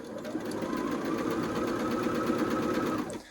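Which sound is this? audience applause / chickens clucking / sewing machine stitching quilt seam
sewing machine stitching quilt seam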